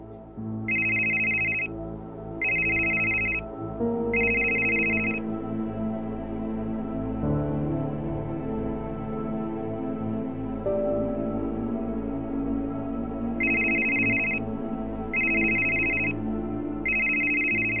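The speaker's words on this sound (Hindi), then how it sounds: "आपका फोन बज रहा है।" A phone rings in repeated electronic bursts, three at the start and three again near the end, over a continuous background of music.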